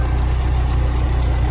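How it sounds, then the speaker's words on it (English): A 1991 Jeep Wrangler YJ engine idles steadily, a smooth, even low rumble with a constant throb, close and loud with no pauses or revving. "So engine's running pretty smooth,"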